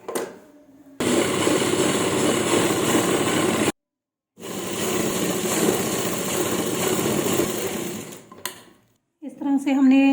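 A sewing machine stitches a salwar in two steady runs of rapid mechanical whirring, separated by a short pause, with a brief burst at the end; no speech is heard.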